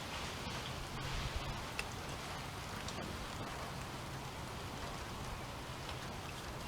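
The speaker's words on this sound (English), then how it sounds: "Of course, it's starting to rain." Rain begins falling outdoors as a dense, soft, steady patter with scattered drops ticking on nearby surfaces, moderately quiet and even throughout with no voices.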